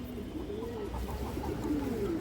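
High-flyer Giribaz pigeons coo in a low, gentle throaty call, a couple of soft rolling phrases heard close, with quiet background hum.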